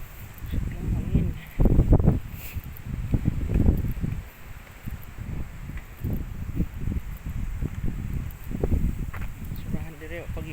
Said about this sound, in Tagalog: Sobrang hangin.